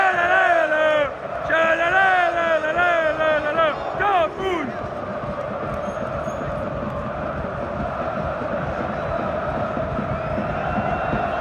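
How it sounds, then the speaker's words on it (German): A stadium crowd at a Borussia Dortmund home match roars into sustained applause and cheering after a loud, sung announcement. The broad, distant wash of clapping and shouting carries on evenly to the end. "Wir verabschieden mit einem riesigen Applaus unsere neuen Sebastian!"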